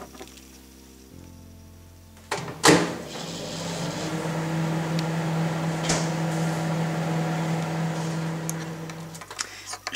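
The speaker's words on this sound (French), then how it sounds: "Il ne reste plus qu'à le passer au micro-ondes tout à l'heure, bien surveiller qu'il ne bout pas" Microwave oven running to melt soap base, with a door or cupboard clunk, then a steady low hum lasting several seconds, close and moderate, ending with a small click.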